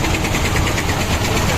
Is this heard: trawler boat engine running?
yes